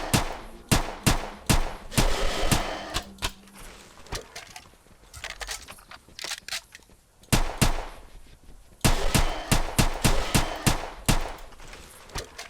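A tactical rifle in the dinosaur-hunting video game Carnivores fires in loud, rapid bursts of sharp cracks, with dense strings of shots separated by brief pauses and echoing tails.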